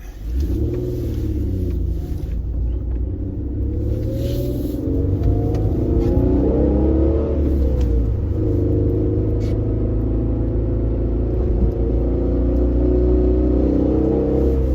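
A car engine revs and rumbles steadily while the driver tries to shift out of second gear, a continuous mid-pitched drone whose pitch rises and wavers around the middle, heard close and alone.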